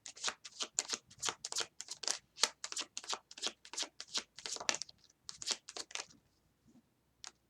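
Tarot cards being shuffled for a reading, a quiet, close series of quick riffling slaps in an irregular rhythm that thins out and stops near the end.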